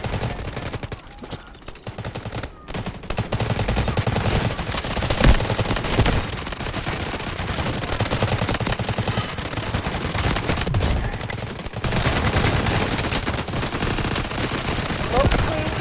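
Bizon submachine gun firing in the mobile shooter Delta Force Mobile, long dense bursts of rapid automatic fire with short breaks, loud and close.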